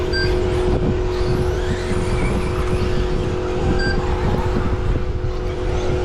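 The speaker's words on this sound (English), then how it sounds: "Now watching these cars going around" Schumacher Cat L1R 4wd RC cars race around an outdoor club track during a championship qualifier, a steady loud electric motor whine with passing cars swelling and fading throughout, no talk.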